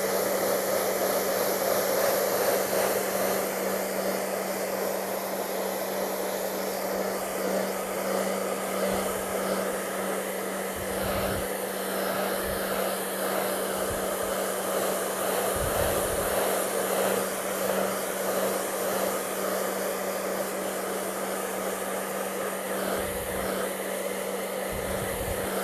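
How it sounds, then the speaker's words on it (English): A handheld blower drying wet paint on a sky sketch roars steadily and loudly up close for the whole stretch, a constant airy rush with faint low thumps. "I have the blower. Take out some of the moisture."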